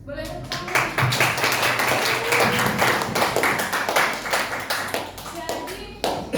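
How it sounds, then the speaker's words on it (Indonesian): A classroom of students claps hands together in a loud, fast run of sharp overlapping claps that lasts several seconds, with children's voices mixed in. "Boleh tepuk tangan."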